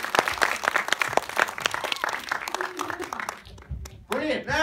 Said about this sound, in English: Little clap for Noah.